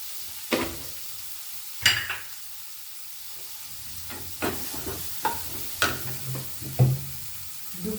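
Vegetables for a Bengali broccoli sabji sautéing lightly in a pan, with a soft steady sizzle broken by several sharp scraping stirs spaced through the stretch, close and fairly quiet with no talk.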